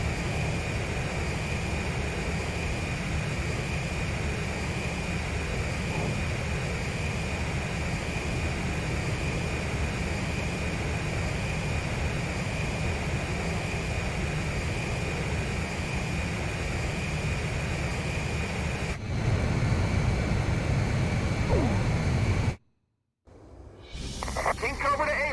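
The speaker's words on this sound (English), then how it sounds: "1 mile to refueling craft. 100 yards to go. Perfect, Blaze. Commencing refueling." Jet aircraft engine roar during aerial refueling in the video game Ace Combat 5, a steady loud drone with radio chatter over it, briefly cutting out near the end.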